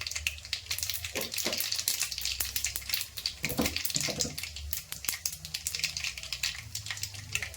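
Fennel seeds sizzle and crackle in hot oil for a lake-fish curry, a steady dense frying hiss with scattered sharp pops and occasional stirring clatter, close and continuous.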